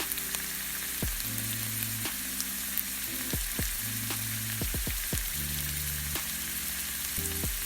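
Chopped onions with a spoonful or two of yogurt sizzle steadily in a pan, a close, continuous frying hiss broken by several sharp clacks of a spoon stirring against the pan.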